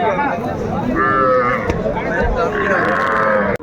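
Young bull calves call out with high, drawn-out moos amid a busy crowd of voices and chatter at a cattle market.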